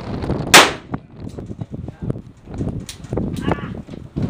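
Pistol fired at an outdoor shooting range: one loud, sharp shot rings out near the start, with people chatting nearby before and after it.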